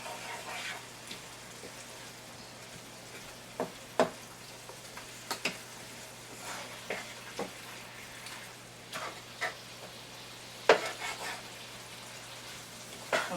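Water bubbling and hissing softly in a skillet after braising pork shoulder, stirred to deglaze, with a faint continuous sizzle and occasional scrape and clack of a utensil on the pan.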